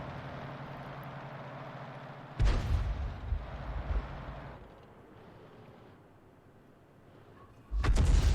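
Pz.Sfl. IVb tank gun firing in a video game: two loud, heavy booms, one a few seconds in with a rumbling tail and another near the end, over a low steady engine drone.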